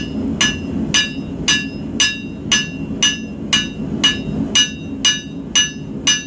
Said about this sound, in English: that's what we're going to hammer the cutting edge in